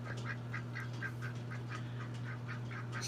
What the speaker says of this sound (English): We have quacky ducks